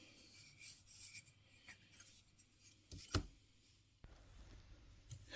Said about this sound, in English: it just makes sure as I go across the stone to sharpen it, it's staying consistent